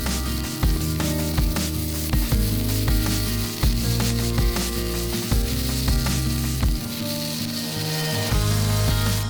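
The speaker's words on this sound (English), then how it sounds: "place the prepared balls of hamburger meat on the skillet" Hamburger patties sizzle in a skillet over a campfire, making a constant loud frying hiss over a steady tonal background.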